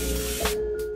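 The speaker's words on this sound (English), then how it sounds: "by far the most effective was the angle grinder with a cutoff disc" An angle grinder with a cutoff disc cuts thin metal locker sheet, giving a steady, close, high whine with a hissing spray of grinding noise that briefly surges mid-cut.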